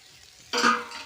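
Onions dropped into a pan of hot oil for a homemade masala curry burst into a loud sizzle halfway through, after quiet kitchen background, then settle into steady frying.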